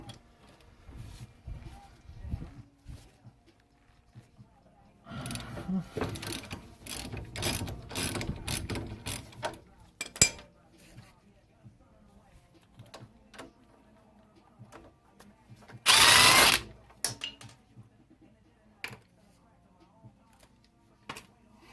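Ratchet wrench clicking on a front suspension through bolt of a 1991 Acura Integra LS, a stretch of rapid pawl ratcheting followed by a short loud burst and a few scattered clicks, close and with no talking.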